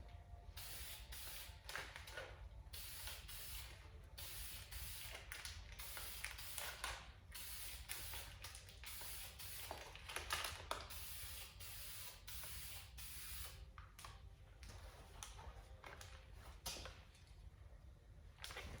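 Repeated short hissing bursts of spray paint, laid on in two coats to black out the tail lights of an Indian Pursuit motorcycle, each spray close and steady with brief pauses between passes.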